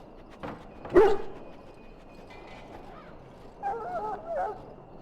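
A dog in Dragon Age: Origins at the Ostagar camp gives a sharp bark, then a few softer whimpering whines a few seconds later over a low ambient background.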